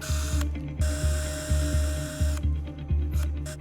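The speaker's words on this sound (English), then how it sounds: "The reason I'm holding my breath whilst drilling is because the rabbit bone is really soft" A small powered surgical drill whirs in short repeated bursts, drilling into soft rabbit bone, a rhythmic mechanical grinding that starts and stops several times, close and fairly loud, with no voices.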